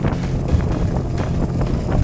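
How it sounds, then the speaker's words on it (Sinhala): Choppy sea waves slapping against the front of a moving boat's hull near Trincomalee, repeated choppy thuds over a constant roar of wind and engine noise. "ඉස්සරහ බෝට්ටුවේ වදිනවා රැල්ල"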